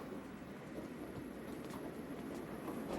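An animated train speeds along on elevated track, a low steady rumble with faint rattling clicks, quiet and continuous.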